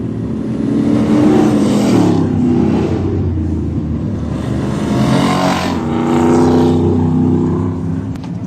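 Thunder Cars race cars roar around an oval racetrack during a race restart, engines swelling loudly as the pack passes close, fading slightly, then surging again.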